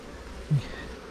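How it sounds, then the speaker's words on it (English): Honey bees crawl over a foundation frame lifted from a hive, giving a faint, low buzzing hum with one brief closer drone swelling up partway through. "There's plenty of bees on there."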